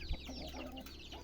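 Chickens cluck softly while pecking at the seeds of a sayote fruit, a faint, brief patch of low clucks and scratchy bird sounds heard fairly close.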